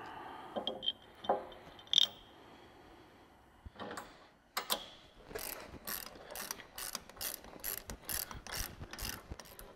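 Fasteners are ratcheted down while bolting an AEV tire carrier onto a Jeep: a few scattered metallic clicks, then a fast, steady run of close ratchet clicks with no speech.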